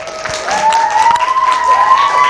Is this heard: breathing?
no